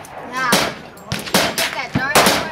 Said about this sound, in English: The mad recoil of a single six.